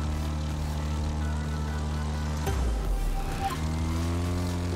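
Propeller plane engine in The Crew 2 racing game, a steady droning hum with strong harmonics that briefly dips and shifts pitch midway as the aircraft banks, then settles back into its drone.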